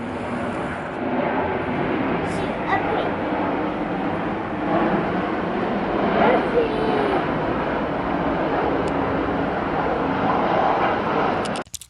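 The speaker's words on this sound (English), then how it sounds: "And another great view of a plane." A plane passes overhead near a hotel patio and pool area in Silicon Valley, giving a steady, moderately loud engine rumble that rises slightly toward the middle.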